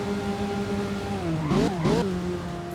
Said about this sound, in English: Bro, those downshifts sound so good.